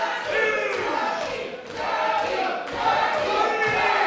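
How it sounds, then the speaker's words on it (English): A pro wrestling crowd in Cedar, British Columbia roars in a dense, steady wall of cheering and shouting that swells and dips slightly but never drops out. "And this crowd is on fire."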